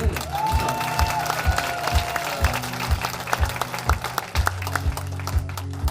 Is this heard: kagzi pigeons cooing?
no